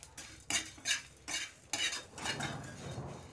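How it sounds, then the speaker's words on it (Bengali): Spices for a ripe tamarind pickle being stirred in a pan, with a series of distinct scraping strokes of a utensil against the metal, about four or five sharp passes, then a softer dry shuffle with a faint sizzle, close and alone. "সব মশলাগুলো দিয়ে আমি একটু নেড়ে চেড়ে নিচ্ছি"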